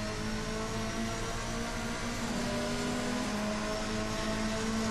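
A race car engine in the Assetto Corsa sim drones steadily at high revs, the tone shifting slightly mid-run as the car closes in to overtake, faint and continuous without talk.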